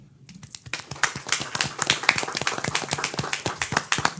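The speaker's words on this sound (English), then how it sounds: "I would like to ask an applause for him." A small crowd at a city commission meeting applauds the city mayor, with brisk, scattered hand claps that start abruptly and keep up at a fairly even level for a few seconds.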